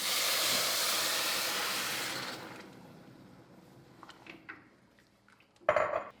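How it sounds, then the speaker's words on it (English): Boiling water hisses loudly into a hot pot of butter-coated rice for a couple of seconds, then fades to quiet bubbling with a few light clinks of metal. "Stir the rice around until it gets completely coated in the butter, and then pour in your boiling water."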